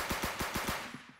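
Gunfire in the Roblox game Arsenal comes as a quick burst of about five evenly spaced shots, then two fainter ones as the sound trails off, close and fairly loud.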